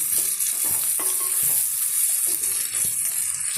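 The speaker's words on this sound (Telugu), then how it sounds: "ఇప్పుడు నేను దీనిలో టమాటాలు వేస్తున్నా." Tomatoes tipped into a hot frying pan for a mango fish curry hiss and sizzle steadily and loudly, with a few soft stirring clatters over the continuous frying noise.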